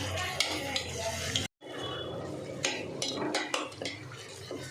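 Onions or aromatics being sautéed in a pan for a Sunday kuska rice dish, with a spoon scraping and clattering against the pan through steady sizzling, a brief silent gap, then more stirring while a voice talks over it.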